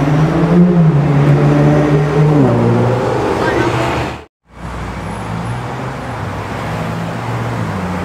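A Ferrari LaFerrari supercar in Rosso Fuoco red rolls past, its engine note rising and falling with a broad roar over road noise, briefly cut out midway before steady traffic rumble resumes.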